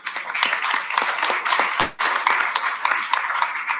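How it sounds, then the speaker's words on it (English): Conference-session audience applauding in a hall, a dense, steady round of clapping from many hands at moderate loudness, with a brief dip partway through. "So please do give him a warm round of applause."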